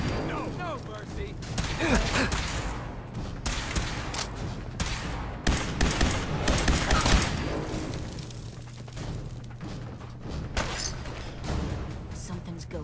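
Covering gunfire in a Fallout 4 firefight: irregular bursts of shots and heavy thuds rise and fall over a constant low rumble, with a voice talking in among the shooting.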